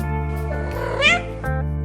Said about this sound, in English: We are Pat, Alexa, and Gilligan the Fat Boat Cat.